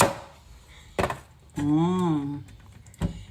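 A knife cuts a yellow watermelon in half with a few crisp, separate slicing thuds spaced about a second apart, while a voice exclaims between the cuts.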